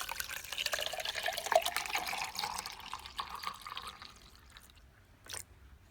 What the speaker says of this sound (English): So now the distilled water.